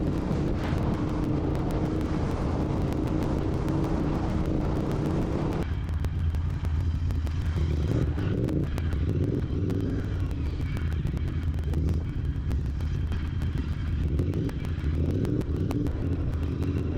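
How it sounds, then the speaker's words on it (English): A Royal Enfield Continental GT 650 motorcycle is ridden on the road in Dubai: a loud, continuous engine drone with deep rumble and rushing noise, its tone shifting partway through as the engine note drops, with no voices. "Riding Royal Enfield motorcycles has always been a pleasure"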